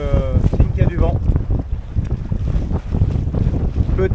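A sailboat heeling 10 to 15 degrees and moving fast on a whitecapped sea, with strong wind roaring across the microphone, water rushing along the hull and someone talking over the noise.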